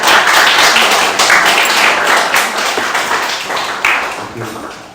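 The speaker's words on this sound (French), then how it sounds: "On peut applaudir pour les accueillir quand même." Congregation applauding in church to welcome newcomers, loud close dense clapping throughout, tapering slightly toward the end.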